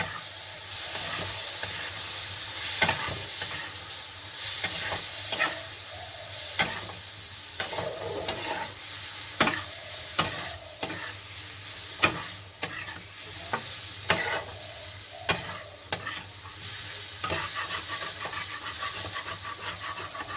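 Ground Kashmiri chilli, turmeric, coriander and cumin powders sizzle in a pan with a little water, a steady close hiss broken by repeated scraping stirs and taps of the spoon.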